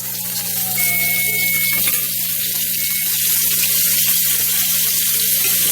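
Food sizzles and fries steadily in a pan at a steak dinner, a loud continuous crackling hiss with no talking.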